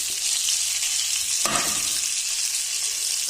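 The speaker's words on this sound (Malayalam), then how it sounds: "ആദ്യം കുറച്ച് എണ്ണ ഒഴിച്ച് കുറച്ച് ബട്ടർ ഇട്ടിട്ടുണ്ട്." Oil and melted butter sizzle steadily in a pan for a green pea curry, a constant close frying hiss with a brief stir or splash midway and no voices.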